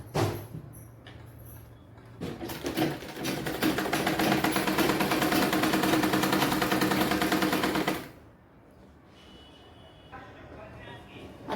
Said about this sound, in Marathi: जो आपला गोल शेप होता ससा टोपीचा, त्या शेपवर आता आपण शिलाई करणार आहोत.